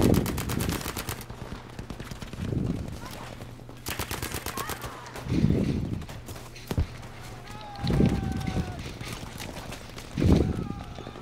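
Bursts of automatic gunfire crack out in Battlefield V, several rapid volleys spaced a few seconds apart, loud and close amid game sounds and voices talking.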